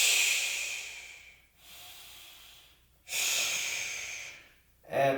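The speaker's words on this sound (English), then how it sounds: "3 breaths here, last time." Slow, deep yoga breaths, close and hissing, rise and fall as long inhales and exhales in a calm, steady rhythm with short quiet gaps between them.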